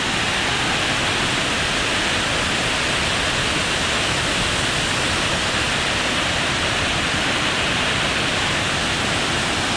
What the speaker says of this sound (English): I'm in the middle of the forest with a beautiful natural waterfall.